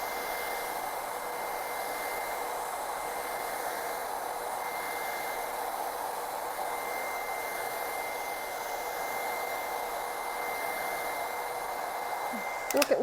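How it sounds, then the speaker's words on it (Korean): A hair dryer blows steadily during a men's Ivy League haircut, a constant rushing whoosh with a faint whine, close and uninterrupted for the whole stretch, with a brief clatter at the very end. "그다음에 이 드라이기 노즐이라고 합니다"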